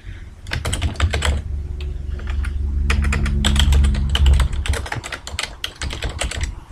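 Fingers type quickly on a computer keyboard while entering text in Microsoft Visio 2010. The clicks come close and crisp in uneven bursts, with a low hum underneath. No one speaks.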